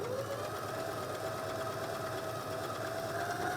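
Sewing machine running a decorative quilting stitch, a steady close mechanical hum with a fast regular pulsing rattle, continuous and even for a few seconds without talk.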